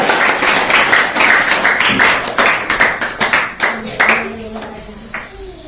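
Children at a school program clap together in a quick, steady rhythm. The claps are close and loud at first, then thin out and soften, with voices coming in toward the end.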